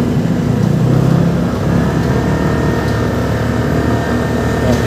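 Traffic rolls past on a Quezon City road beside the MRT 7 guideway works near West Avenue, a steady, fairly loud wash of car and engine noise with no clear individual pass-bys and no voices.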